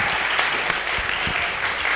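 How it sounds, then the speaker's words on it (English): An audience claps steadily for two seconds at a pitch event, a dense, even wash of applause from a crowd in a room. "Give yourselves a round of applause."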